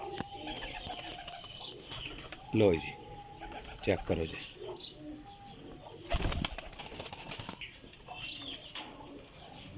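A flock of pigeons, mostly females, coos softly while wings flap in a few sharp bursts close by, under a man's occasional speech.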